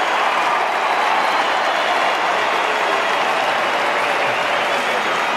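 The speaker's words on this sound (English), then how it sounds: "You'll hear the crowd go up." Melbourne supporters at an Australian football match roar and applaud after a goal, a dense, sustained wall of crowd noise that stays loud and even throughout, with no individual voices standing out.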